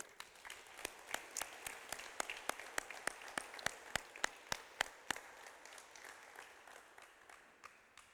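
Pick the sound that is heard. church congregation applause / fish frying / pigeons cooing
church congregation applause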